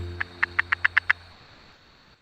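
Seven short, evenly spaced frog calls ring out in a quick rhythmic series over a low steady hum, then fade, leaving faint background noise.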